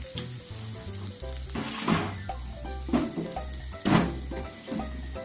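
Miso seasoning stir-frying in a pan over medium heat, a steady close sizzle with repeated scraping strokes of a utensil and light clinks of metal, continuous throughout with no talking.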